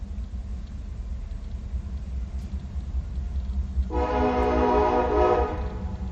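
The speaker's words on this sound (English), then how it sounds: "we're going to listen to this train" A passing train gives a low, continuous rumble, then a loud, sustained horn blast rises over it partway through; no one speaks.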